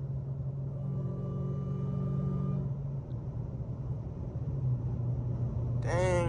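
A 900-horsepower Dodge Charger Hellcat drives on a highway with a steady, loud low engine rumble and a droning tonal whine. A short sharp sweep comes near the end.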